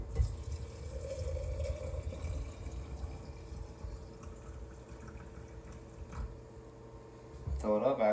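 Hot water pours from a pot into a jar, heard as a steady liquid gurgle and fill sound that runs under a person talking, ending with a brief clatter.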